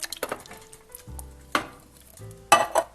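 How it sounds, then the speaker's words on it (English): Diced tomatoes are stirred into vegetable soup in a pot, with a spoon scraping and knocking against the pot in a few irregular clatters between soft sloshing, close and fairly quiet with no talk. "Stir that all up."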